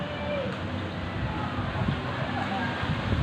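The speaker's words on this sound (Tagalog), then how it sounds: "Grabe, ang hangin nun." Steady, heavy wind from a Christmas-season storm roars across the microphone without a break, a broad continuous rush with some low rumbling gusts.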